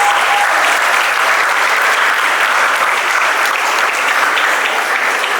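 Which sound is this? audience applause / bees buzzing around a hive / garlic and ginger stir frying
audience applause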